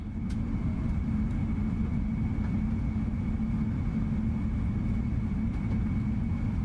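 An Air India airliner takes off in Microsoft Flight Simulator 2024, heard as a steady low engine rumble and roar that holds even and continuous throughout, with no one speaking.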